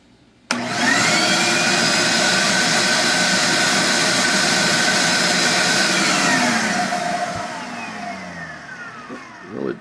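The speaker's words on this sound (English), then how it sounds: "We're going to turn the shop vac on, do a suction test" A shop vac runs a suction test on a bee vacuum lid assembly: it starts abruptly with a loud, steady roaring whine that holds for about six seconds, then slowly winds down and fades, close to the microphone.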